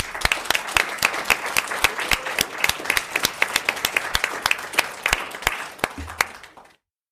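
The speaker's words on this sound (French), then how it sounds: "Virginie, on peut l'applaudir?" Audience applause at a French panel talk on the future of work, a dense burst of clapping with sharp individual claps standing out, steady for several seconds before thinning and stopping abruptly near the end.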